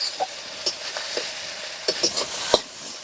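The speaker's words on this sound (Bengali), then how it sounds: "এবার এগুলোকে ভালো করে কষিয়ে নিতে হবে, নাহলে কাঁচা গন্ধ ছাড়বে" Ginger paste and spices sauté in a pan, a soft steady sizzle punctuated by repeated sharp scrapes and taps of a spatula against the pan.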